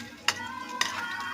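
Garlic and onion sautéing in hot cooking oil for a Filipino ginisa, with a steady crackling sizzle and two sharp stirring scrapes of a utensil against the pan.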